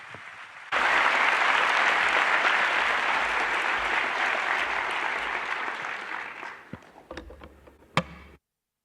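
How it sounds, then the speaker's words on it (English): An auditorium audience at the 2024 IAU General Assembly gives a loud, full round of applause welcoming a speaker to the stage; the clapping swells abruptly, holds for several seconds, then thins into a few scattered claps. "A warm round of applause, please, for Fulafelo Nelwamondo."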